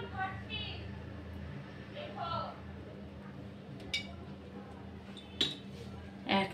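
A spoon adds honey to green tea, giving a few light, sharp clinks against the cup, spaced apart over a quiet background hum.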